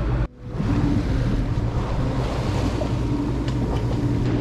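Sea waves surge around a sailboat off a headland on the northern Spanish coast, a dense, loud continuous rush of water and wind noise that briefly drops out near the start, with no voices.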